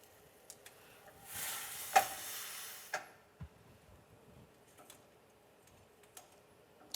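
Big chopsticks stir pasta in a pot, with quiet intermittent clicks and taps against the pot and a brief hissing swirl in the middle, soft and close with no talking.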